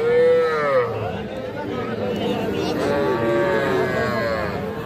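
A crossbred bull calf moos several times in long, drawn-out calls close by at a cattle market, with faint chatter and farmyard noise in the background.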